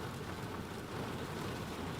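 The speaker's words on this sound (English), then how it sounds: "the rain has been coming down so hard, the car has been shaking" Heavy rain pounds on a car in Nashville, Tennessee, hard enough to shake it, a dense, loud, unbroken roar of drops drumming on the body and roof.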